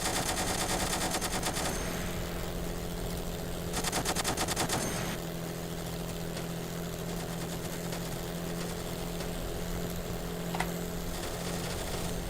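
Rapid turret machine-gun bursts in the Kerbal Space Program BD Armory game over a constant propeller aircraft engine drone, two dense bursts early, then the engine alone.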